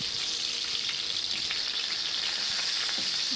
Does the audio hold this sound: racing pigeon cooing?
no